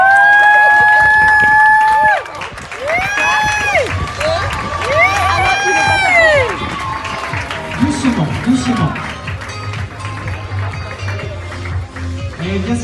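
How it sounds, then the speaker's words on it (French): Spectators at a horse show prize-giving applauding and cheering a rider, a sustained clapping crowd under loud shouts and voices, with whistles and calls rising over the noise. "vous pouvez l'applaudir."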